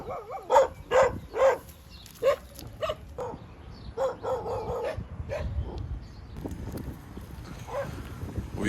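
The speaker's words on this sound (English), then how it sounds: "We've made some distance now between the dogs." Dogs in a small Thai village bark in a quick run of sharp, fairly close yaps, then bark more sporadically against street background noise, with faint talk mixed in.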